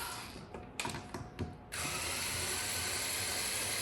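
Ratcheting Torx driver working screws on a Ryobi lithium-ion battery pack, a few quiet clicking ratchet strokes, then a steady hiss of background noise, faint and close.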